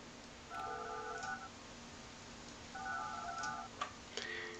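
Telephone tones from Project Highrise, a tower-building video game, with two short bursts of steady electronic dialing or ringing beeps separated by a pause, followed by a few faint clicks over a quiet background.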